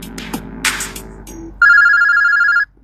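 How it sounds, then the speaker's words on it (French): A telephone rings in one long, loud, steady electronic tone that stands alone after some muffled rustling and knocks. "Le téléphone sonne"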